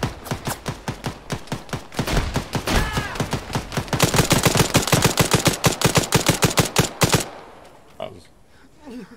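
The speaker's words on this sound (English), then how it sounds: "Shooting." Rapid bursts of automatic gunfire in Arma 3, loud and close, firing in steady repeated volleys for about seven seconds before cutting off into quieter background noise.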